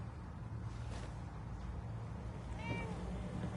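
A cat in Fallout 4 gives a single short meow partway through, faint beneath a low game ambience.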